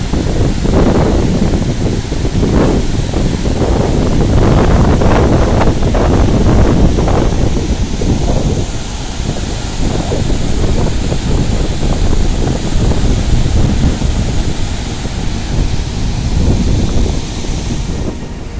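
Fast water rushes steadily through the gates of a dam on the Brahmani river, a dense, loud, continuous roar with wind buffeting the microphone throughout and no voices.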